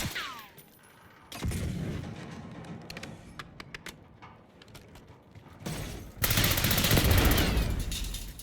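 Gunfire in the video game Black Ops 6, bursts of loud rapid shots and fusillades separated by quieter gaps with mechanical clicks, the heaviest sustained firing near the end.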